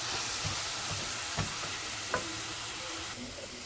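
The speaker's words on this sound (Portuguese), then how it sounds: "vou deixar dar uma boa refogada." Chopped green bell pepper sautés in a pan, a steady soft sizzle and hiss running throughout with a few faint stirring knocks, no voices.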